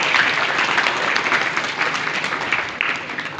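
Schoolchildren applaud together at a school event held for National Anti-Leprosy Day, with steady, dense clapping that stays loud and even throughout, alone and without talk.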